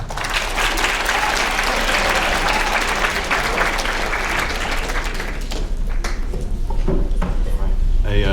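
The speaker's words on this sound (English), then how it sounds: "Please give a round of applause and help me in welcoming Kevin Coble." Sustained audience applause at a school writers' week event, welcoming author Kevin Coble to the stage; dense, steady clapping fills the room for several seconds before tapering slightly.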